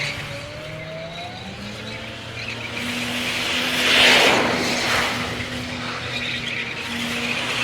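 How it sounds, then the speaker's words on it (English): A street drag racing car revs hard, its engine and exhaust roaring loud and close with shifting pitch, swelling to a peak midway while tires squeal faintly. "Listen to the noise coming out of the exhaust."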